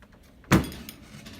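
A hidden door in a haunted house attraction closes with a single short thud near the middle, over quiet background sound.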